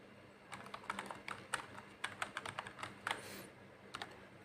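An Aadhaar number is typed on a computer keyboard during an online PAN card application, a quick run of soft, close keystrokes in an irregular rhythm with short pauses, alone in a quiet room.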